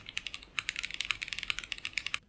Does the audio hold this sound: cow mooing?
no